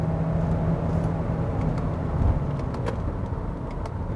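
A 2021 Kia Sorento mid-size SUV with a 1.6-liter turbocharged gasoline engine pulls steadily under acceleration, heard from inside the cabin as a continuous low drone with road noise and no talking.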